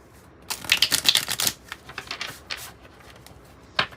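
An oracle card deck is shuffled close up, giving a quick run of papery riffling clicks followed by softer card handling and a final snap.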